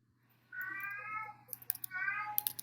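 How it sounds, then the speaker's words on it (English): Two short bursts of house cats meowing indoors, the first a drawn-out wavering cry and the second a slightly shorter call, fairly faint, with a low steady hum underneath and no talking. "my cats are meowing"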